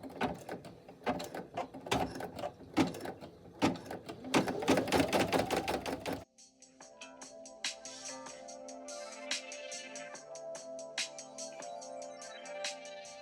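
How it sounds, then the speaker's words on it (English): An embroidery machine stitches a decorative pattern and a name onto a fabric shaker bag tag, with rapid, rhythmic mechanical ticking and whirring up close, then shifting to a lighter, tonal clattering pattern partway through. "now it is going to stitch the decorative stitch and the name."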